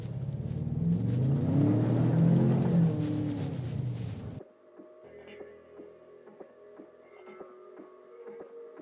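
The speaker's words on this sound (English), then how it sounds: "Just gonna get on the gas really hard and see the traction control try to do its thing." A 2021 Ford Bronco Sport accelerates hard off-road in sand and mud, its engine roaring loud and rising for about four seconds before cutting abruptly to a quieter whirring, humming drone.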